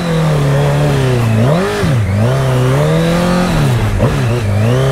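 A Honda CBR1000 motorcycle revs hard on a wet trail while sliding sideways, its engine loud and close with pitch swooping up and down in repeated surges and dips over a steady roar.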